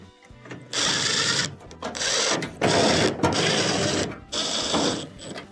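A power screwdriver drives screws to reinstall a clothes dryer's back panel, with five or six short whirring bursts separated by brief pauses, close and fairly loud.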